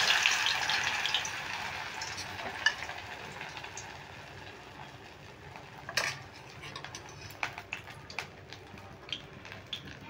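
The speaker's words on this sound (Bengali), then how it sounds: "এইভাবে দিয়ে এইভাবে ভেজে নেব।" Pointed gourd (potol) pieces frying in a pan over a medium gas flame, a steady soft sizzle throughout with occasional sharp clinks of a utensil against the pan.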